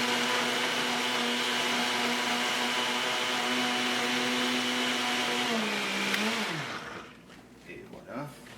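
A blender whirs loudly and steadily while lemon is blended with water, its motor holding an even high drone before it slows and winds down near the end, followed by a quieter rattle.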